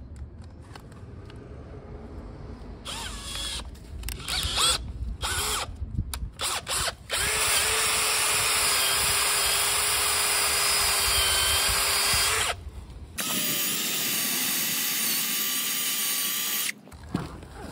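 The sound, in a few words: cordless drill scraping house facade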